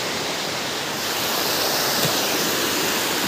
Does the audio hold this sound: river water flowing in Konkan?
yes